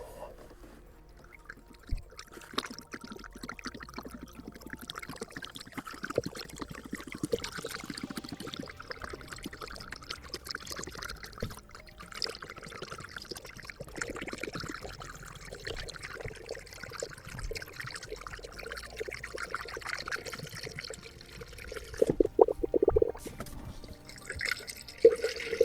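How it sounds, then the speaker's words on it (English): Coolant poured into the cooling system of a Mazda MX-5 NB2, a quiet continuous trickle and splash of liquid with small drips, faint and close, ending in a few louder knocks. "I can start pouring the big stuff."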